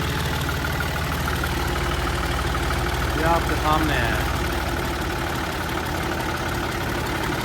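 A 2017 Fiat 480 tractor engine idles steadily and close by, a low continuous rumble running beneath someone speaking.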